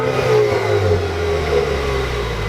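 A 2017 Chevrolet Camaro with a 2.0L turbocharged four-cylinder engine revs steadily and loudly up close, its droning, rising engine note holding throughout with no talking.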